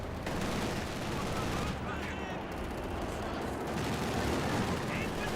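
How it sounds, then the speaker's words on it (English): A Stuka dive bomber's anti-tank strafe in the strategy game Company of Heroes 2 sets off continuous rattling gunfire and booming impacts, loud and dense throughout with little break. "Stuka's anti-tank strafe"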